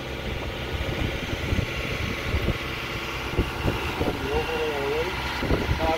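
A boat's motor runs during a sea trial as a steady, continuous engine rumble close by, with voices talking over it throughout.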